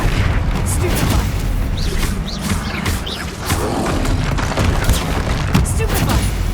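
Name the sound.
spell explosions (Confringo, Bombarda) in the video game Hogwarts Legacy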